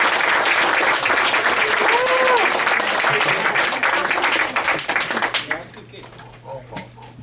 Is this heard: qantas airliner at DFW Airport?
no